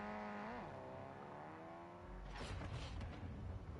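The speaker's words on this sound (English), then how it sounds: "I hear a vehicle." A vehicle engine in Call of Duty Warzone 2.0 hums with a tonal whine that dips in pitch, then gives way to a rougher, noisier rumble, fairly faint and with no talk over it.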